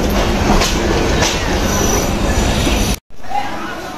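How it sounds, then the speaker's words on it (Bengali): A train pulls into Kaunia junction station in Bangladesh, a loud continuous rumble of rolling wheels and carriages with a short cut, then a crowded station din with voices underneath. "কাউনিয়া জংশনে ট্রেন প্রবেশ করলো যাই ট্রেনে উঠি"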